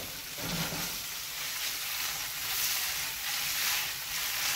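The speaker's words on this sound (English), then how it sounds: "Tofu boiling." Tofu and vegetables stir-frying in a pan for an Asian-style stir fry, giving a steady close sizzle and hiss that holds evenly throughout, with a brief low clatter near the start.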